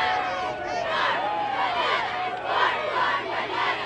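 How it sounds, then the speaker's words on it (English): A crowd at a Golden Bears college football game cheers and yells, a continuous roar of many voices with individual shouts rising above it, loud and sustained. "You can hear the crowd cheering,"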